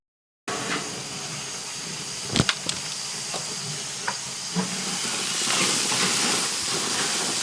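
Sausages and a chop flaring up on a gas grill set to low give a steady loud hiss and roar, broken by a few sharp pops and crackles, and the hiss swells toward the end.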